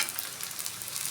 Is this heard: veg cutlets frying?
yes